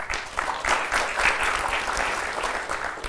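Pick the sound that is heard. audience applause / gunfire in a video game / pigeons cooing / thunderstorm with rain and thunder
audience applause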